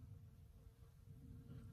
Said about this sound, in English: just had a bee land on my hand.